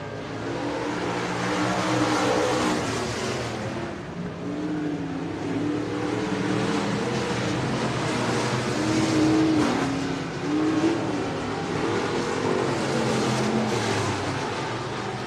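Stock cars race around Buena Vista Raceway in single file, their engines roaring loud and continuous, with the pitch rising and falling as the cars circle the track.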